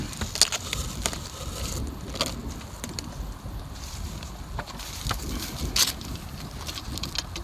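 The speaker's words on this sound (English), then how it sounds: "Windy day, Winnie the Pooh, and a blustery day here." Gusty wind roars steadily against the microphone on an archery range, with a few faint ticks and rustles scattered through.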